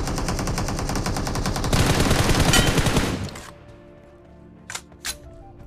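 Rapid automatic gunfire in a PUBG-style battle royale game, a loud sustained burst of rattling shots close by that cuts off, followed by two sharp single shots after a pause.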